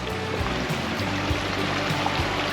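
Clear mountain spring water on a backpacking trail in the Grand Tetons flows and trickles steadily nearby, a continuous close babble with a low background hum.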